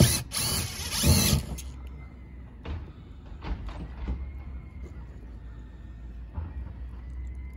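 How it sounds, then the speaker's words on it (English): On a 12-year-old metal roof, a power driver whirs loudly at the start as screws are swapped, followed by several short clicks and metallic taps against a quiet outdoor background. "We're changing the screws in this metal roof. Take one out, put one in."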